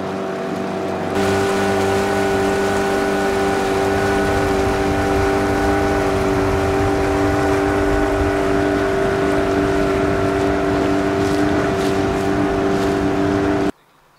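A trawler motors along the shoreline at San Evaristo in the Sea of Cortez, its diesel engine giving a steady, loud, droning hum over a wash of water noise for the full stretch before cutting off abruptly.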